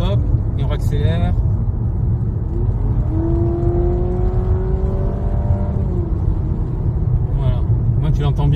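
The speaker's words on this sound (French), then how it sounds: "Petit freinage, hop, et on accélère." A Honda Civic hybrid used as a ride-hail car brakes gently and then accelerates. A rising electric whine runs over a constant low road rumble in the cabin, with a brief voice near the start.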